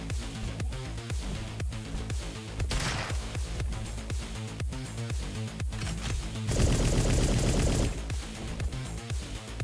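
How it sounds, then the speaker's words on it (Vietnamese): Rapid bursts of gunfire in the fast-paced shooter Roboquest, loud and close, sharp repeated shots with a dense noisy blast partway through and near the end, no voices. "Lấy thử súng ngắm này."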